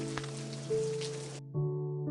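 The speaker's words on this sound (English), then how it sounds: "until it started to rain heavily" Heavy rain effect for a fairytale scene of rain falling hard and trickling over cobblestones, a dense broad hiss that cuts out abruptly partway, leaving low sustained tones behind; no one speaks.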